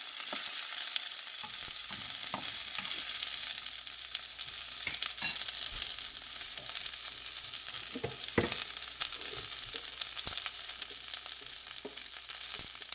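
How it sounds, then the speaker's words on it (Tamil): Beans sautéing in oil in a pan, a constant loud hiss of frying with occasional clicks and scrapes of stirring, steady for the whole stretch, no voices. "நல்லா திருப்பி திருப்பி எங்களை எண்ணெயில் வதங்க விடுவோம்"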